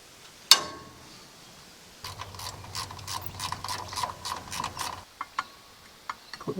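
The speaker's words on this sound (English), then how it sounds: "We undo the bottom of the shock so you can get into this bottom bolt" A ratchet works the bottom bolt of a shock absorber on a vehicle, giving a few seconds of quick repeated clicking after an earlier sharp metallic clank, followed by scattered knocks, close by.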